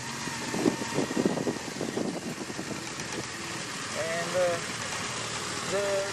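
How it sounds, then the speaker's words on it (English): Engine and quiet exhaust of a 2016 BMW R1200RS motorcycle on a commuter ride, a steady low mechanical drone with wind noise under someone talking throughout. "The exhaust is very quiet and I like it."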